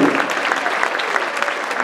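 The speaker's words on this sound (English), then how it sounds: "Give them a round of applause," Audience applause fills a winter concert hall, a dense, steady wash of many hands clapping close and loud from start to finish.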